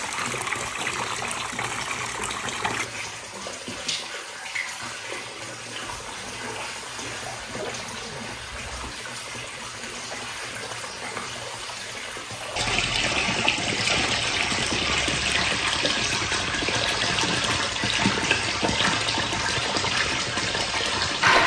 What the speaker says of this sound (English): the water is getting pumped straight out of the ground directly right now because it's filling up